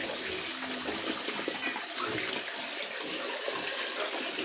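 Steady running water, like a tap or hose pouring, fills the whole stretch at a constant moderate level near a pig pen with a new sow, with no voices over it.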